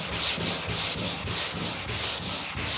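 Polyester primer on a car body panel is block sanded by hand in quick, regular back-and-forth strokes, about three per second, each a close, loud, gritty scrape with no talking.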